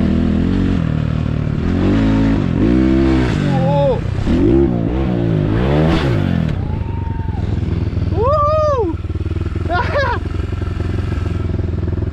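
A pit bike engine revs repeatedly on a dirt pit bike track, rising and falling in loud sweeping pitch, close by and continuous, with shouting voices mixed over the engine noise.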